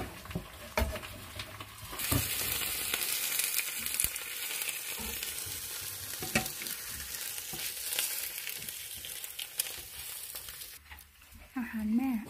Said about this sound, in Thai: จะทอดเบคอน